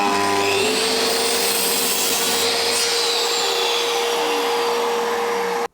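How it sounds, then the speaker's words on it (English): A power saw cuts through a ripped wooden piece in a loud, continuous whirring grind that holds steady and then stops abruptly at the end, close up with no talk. "just cut the piece I just ripped through the saw"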